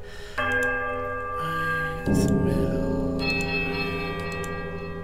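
Bells in Pillars of Eternity ring out in two sustained, overlapping tones, the second strike coming about two seconds after the first, with the chimes lingering clearly and no talk over them.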